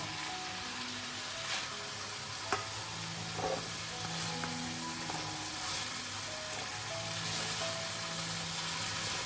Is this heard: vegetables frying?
yes